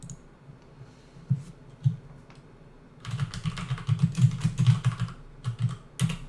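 Computer keyboard typing begins with a few scattered taps, then breaks into a quick, steady run of close keystrokes over a low background hum.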